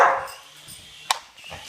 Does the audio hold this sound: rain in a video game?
no